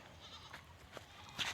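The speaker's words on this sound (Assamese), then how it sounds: "আৰু এই ছাগলকেইটা" Goats bleat on a farm field, a few faint, short calls heard from a distance over low background noise, the last one slightly louder.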